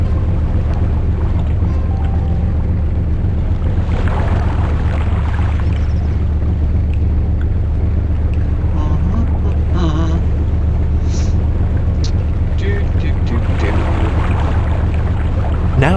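Boat engine running in reverse in a sailing simulator game, a loud steady low drone with wind and water wash layered over it, continuous throughout.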